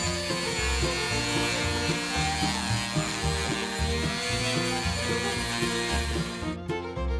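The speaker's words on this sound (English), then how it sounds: "I worked on this area with sanding drums in my Dremel." A Dremel rotary tool fitted with sanding drums grinds on the steel of an International Harvester adjustable monkey wrench, a close, loud buzzing whine with a wavering grinding texture, running continuously before stopping near the end.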